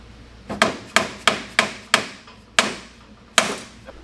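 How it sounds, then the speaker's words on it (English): A mallet hammers the steering knuckle of a Honda Civic to knock it loose, landing seven sharp, close metallic blows at an uneven pace with short pauses between them and no talk. "we were just hitting the knuckle down with the mallet"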